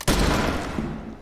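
Gunfire in The Walking Dead: The Final Season game: a close, loud shot that leaves a booming, reverberant rumble trailing for about a second.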